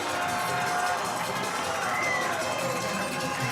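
A hockey arena crowd roars and cheers after an Indiana Sentinels goal against the Topeka Scarecrows, a sustained loud wash of noise with a commentator talking over it.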